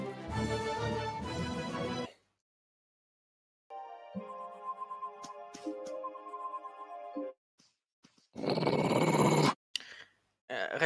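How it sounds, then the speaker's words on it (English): Repede, the dog companion in the video game Tales of Vesperia, lets out short growling bursts separated by silent gaps, mixed with game effects and a louder burst near the end. "Rapide is growling."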